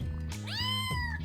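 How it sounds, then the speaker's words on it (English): A single cat meows once, a short rising-then-falling cry heard over low background game music and hum, close and clear. "Kitty cat."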